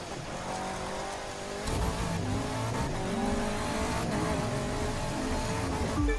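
A Land Rover Defender drifts off-road in The Crew 2, its engine droning steadily and revving harder midway, with tire noise and skidding layered over a constant loud roar.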